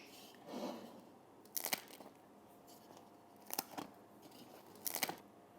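Crunchy crust of a homemade Neapolitan pizza bitten or cut, three sharp crackling bursts spaced about two seconds apart, close and fairly quiet, with soft handling noise between and no talking.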